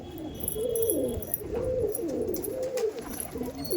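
A female Andhra pigeon coos close by, a run of soft, rolling, repeated coos in quick succession, loud and alone with no talk.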